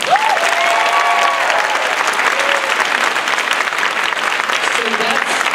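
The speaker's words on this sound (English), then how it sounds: "Let's give them a round of applause." Audience applause at a live podcast event, a dense steady wash of clapping filling the whole stretch, with faint cheers and whoops rising over it near the start and again near the end.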